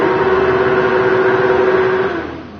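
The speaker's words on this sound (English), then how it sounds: "Glorious sound of the engines as" Porsche Carrera Cup race car engines drone at the Zhuhai International Circuit as the field rolls out for the formation lap, a loud, steady, buzzing tone that fades slightly at the end.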